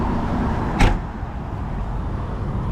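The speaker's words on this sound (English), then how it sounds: "Unlatch the door." The door of a machine cab is unlatched and swung open with one sharp, close click and clunk, then a steady low rumble of the surroundings carries on.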